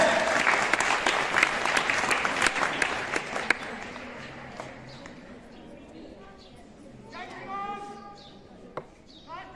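Applause from spectators at the India–Pakistan border flag-lowering parade at Nadabet, Gujarat, as Border Security Force troops march; loud clapping fills the first few seconds, then fades under voices and calls.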